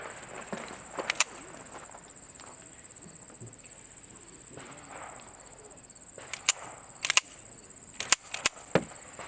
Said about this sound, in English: we'll have him shoot a few rounds